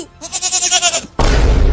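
A goat bleats in a drawn-out, wavering call, then a loud burst of broadband noise cuts in and continues to the end.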